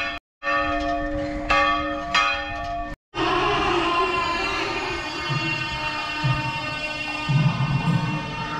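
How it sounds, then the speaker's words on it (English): A sacred Hindu temple bell at Point Pedro, northern Sri Lanka, rings with repeated resonant strikes, each tone lingering and overlapping, with a low background hum and a brief break in between. "You can hear, listen the sounds of the bell, the sacred bell."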